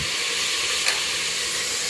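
Rice frying in a covered pan at home, a steady close broadband sizzle with a soft steamy hiss and one brief brighter crackle near the middle, with no voices.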